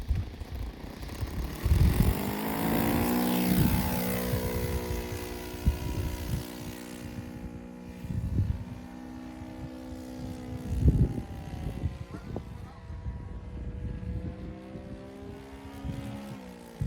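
A vintage Hangar 9 Cub RC plane with a Saito FA-90T four-stroke engine drones past doing touch-and-goes, its pitch rising and falling, with a rough, uneven note from a misfiring cylinder.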